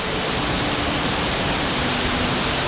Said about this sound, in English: A mini waterfall going on.